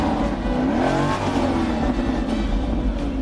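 A car engine roars steadily and loud throughout, the pitch climbing and falling as it revs under a constant heavy rumble.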